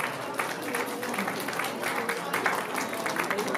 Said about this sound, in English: round of applause for Canada Post